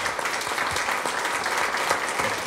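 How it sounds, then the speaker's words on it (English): Audience applause at an Alabama awards ceremony, a steady dense clapping that stays loud and even throughout with no talk over it. "let's give her a round of applause"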